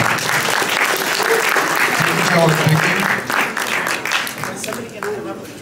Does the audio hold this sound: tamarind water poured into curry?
no